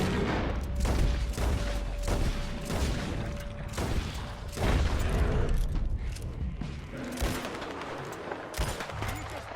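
Gunfire fills a firefight in the Red Dead Redemption 2 video game: a rapid run of overlapping shots and booms, loud and close, that thins slightly toward the end.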